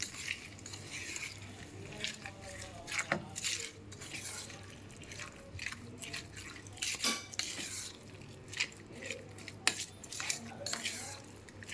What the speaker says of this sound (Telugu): ఇప్పుడు ఈ పచ్చడిని చక్కగా నీట్గా కలిపేసుకోండి